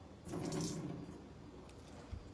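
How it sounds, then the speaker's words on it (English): A short, quiet splash of water being poured out of homemade butter, a brief gushing burst that fades into a soft trickle. "So once you see some water, just pour it out."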